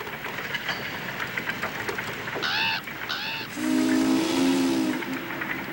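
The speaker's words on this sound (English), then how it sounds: "Like the trumpet of judgment blew the steam whistle of the electric light works." A steam whistle at an electric light works in Homestead, Pennsylvania, in 1892, sounds in two short harmonic blasts followed by a longer, lower sustained tone, all over a steady rumbling background.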